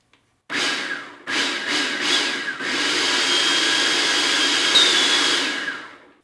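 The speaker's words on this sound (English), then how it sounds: "It's going to mix and grind into a powder." A food processor grinds sugar and milk powder, starting with a few short pulses before running continuously as a loud, steady whirring roar that stops at the end.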